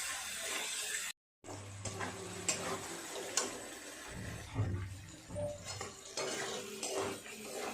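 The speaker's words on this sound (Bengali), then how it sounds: "ভালো করে বেশ কিছুটা সময় নিয়ে মাটনটাকে এখন কষাবো।" Mutton being stirred and sautéed in a pot for biryani, with a spoon ticking and scraping against metal in a loose rhythm over a faint frying hiss, quiet and close, with one brief gap early on.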